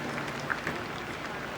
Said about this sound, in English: Ripples of applause.